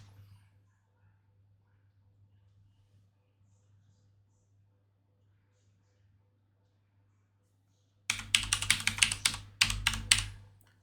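Keys clatter on a computer keyboard as a username and password are typed. After a long stretch of faint low hum, two rapid, close bursts of keystrokes arrive near the end.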